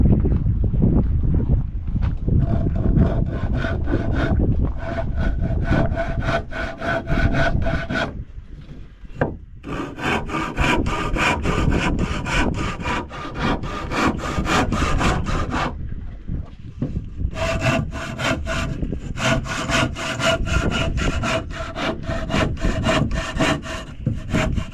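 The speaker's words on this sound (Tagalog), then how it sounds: "Maganda yung lagari mo kahit maliit lang ano." A small hand saw cuts through wood in steady back-and-forth strokes, loud and close, with a brief pause midway before the rasping rhythm resumes, no talk over it.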